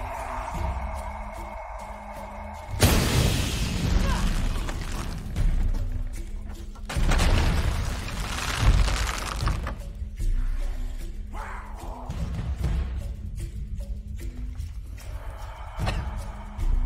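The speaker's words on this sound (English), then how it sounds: "Have to create an explosion." In Shadow of the Tomb Raider, a loud explosion bursts in with a broad roar that tails off, and a second heavy blast follows a few seconds later over a low game backdrop.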